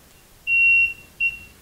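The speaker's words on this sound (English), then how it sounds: "So the smoke detector goes off." A smoke detector alarm sounds indoors in a training house for a fire-safety presentation, giving a long shrill beep and then a shorter one, loud and close.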